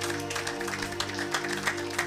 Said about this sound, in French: Acclamez pour la gloire de notre Dieu et de notre Seigneur